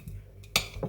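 A knife cuts cheese on a board, giving a few quick, sharp taps and clinks spread over under a second, close and fairly faint.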